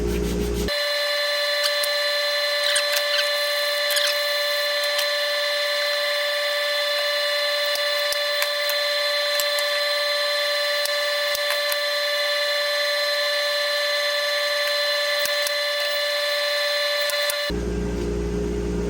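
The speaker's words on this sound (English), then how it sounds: "Sand this smooth finish off real quick so the glue will stick." A tool sands the smooth finish off a piece of wood, giving a loud steady droning whir with a constant pitched hum that runs unbroken for most of the time, then stops abruptly.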